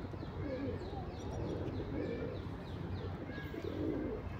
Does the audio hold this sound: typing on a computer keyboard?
no